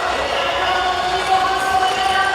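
Crowd at a men's strongman deadlift event roars and cheers continuously, a loud sustained wall of voices with a tonal hum beneath, swelling slightly midway.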